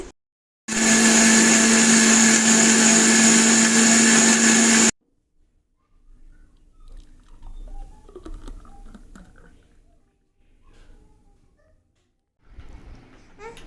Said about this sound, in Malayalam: അങ്ങനെ ബിസ്ക്കറ്റ് ഇട്ടു, ഷുഗർ ഇട്ടു, ചോക്ലേറ്റ് ഇട്ടു, അങ്ങനെ പാലൊക്കെ ഒഴിച്ച് ഷേക്ക് ഇവിടെ ഉണ്ടായിക്കൊണ്ടിരിക്കുകയാണേ